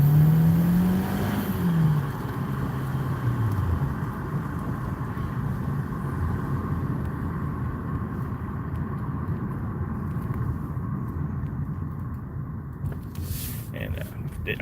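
A 2014 Ford Escape accelerates hard in a sustained engine pull, with a rising whine early on that settles into a steady roar of road and engine noise, heard from close by.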